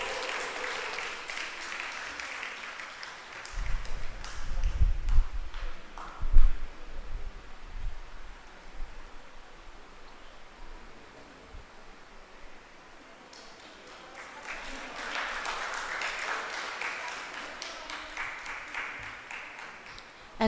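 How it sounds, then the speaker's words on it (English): Audience applause at a state-level debating competition prize announcement, a burst of crowd clapping that fades, a stretch of rustling and low thumps, then a second round of clapping. "Kindly give a louder round of applause, please."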